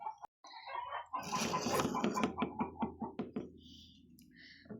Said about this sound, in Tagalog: Saba dyan ang mga manok.